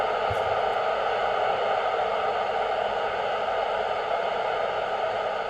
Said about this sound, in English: change in the hissing sound. That means some signal from the satellite is being acquired.